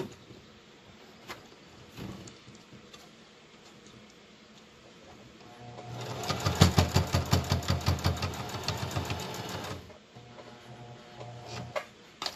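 A sewing machine stitches pleats in a quick burst of rapid, rhythmic needle strokes for about four seconds. The sound is close and moderately loud, with quiet handling noises before and after.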